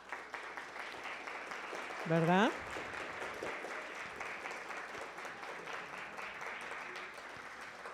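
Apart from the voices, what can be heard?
audience applause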